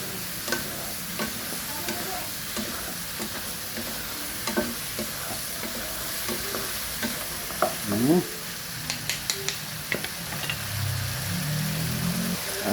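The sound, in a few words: stirring tinolang manok chicken soup in pot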